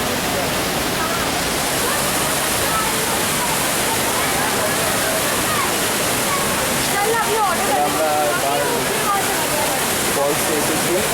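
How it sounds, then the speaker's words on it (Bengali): Banjhakri Falls, a waterfall near Gangtok, roars in a dense, steady broadband rush that fills the whole clip, with faint bird chirps over the top. "যাচ্ছি বাঞ্জারি ফলসে এবং তার শব্দ তোমরা নিজেরাই কানে শুনে নাও"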